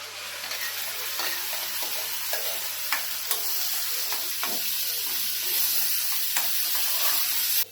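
Ground masala paste roasting in a pan with whole cumin and asafoetida for a mushroom paneer gravy, giving a steady close sizzle with occasional stirring scrapes and no talking.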